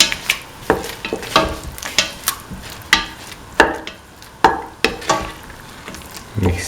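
A spoon stirring split chickpea and bell pepper stew in a pot, giving a steady series of soft scraping and clinking strokes at a close distance, with no talking.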